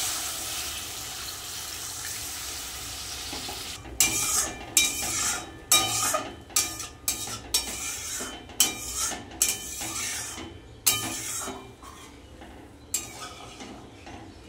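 Water is poured into a pan of well-fried spice masala for a rohu fish curry, giving a steady hiss followed by a run of sharp clinks and scrapes of utensils against the pan.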